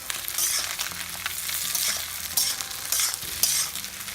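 Thai fried rice stir-fried on high heat crackles and hisses loudly and continuously, with scraping bursts from the spatula tossing the rice and no talk.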